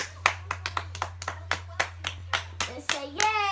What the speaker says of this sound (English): We're going to clap.